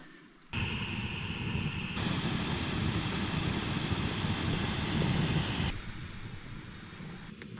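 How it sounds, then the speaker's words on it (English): A Jetboil camping stove burns during a bikepacking trip, giving a loud, steady roar that starts abruptly, holds for several seconds and then drops to a quieter hiss. "I'm just cooking on the old jet boil, which I seem to favour for bike camping. It's quick, it's not the quietest"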